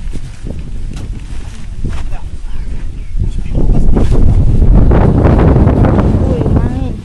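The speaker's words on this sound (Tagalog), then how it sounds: "Uy, hangin." Gusts of wind buffet the microphone outdoors during a potato harvest, a rough low rumble that swells louder midway and stays strong, with voices talking underneath.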